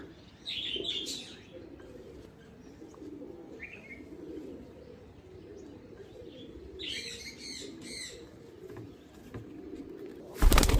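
High-flyer pigeons coo softly in low, repeated murmurs nearby, with a few higher chirps in between and a sudden loud rustle at the very end.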